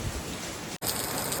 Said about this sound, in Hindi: यहाँ पे हो रही है बहुत ज़्यादा बारिश